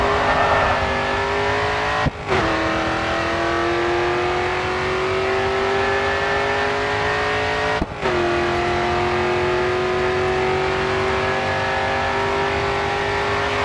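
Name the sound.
race car engine at full throttle in video game GRID 2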